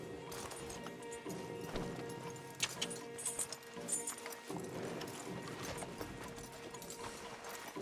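Horses' hooves clip-clop steadily in Red Dead Redemption 2 as stallions are led along, a rhythmic trotting beat over continuous ambient game sound, with a neigh and a few sharper knocks, moderately loud and unbroken.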